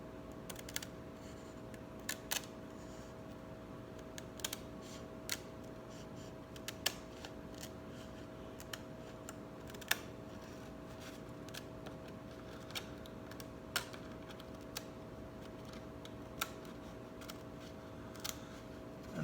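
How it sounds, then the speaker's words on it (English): Scissors snipping along a scored line in a titanium sheet for a ring, giving quiet, irregular sharp clicks spread over a low steady hum, close and faint. "And then I just follow on that line using some scissors."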